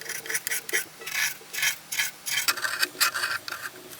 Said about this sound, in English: Just daub on some paint stripper, scrape this old varnish layer off.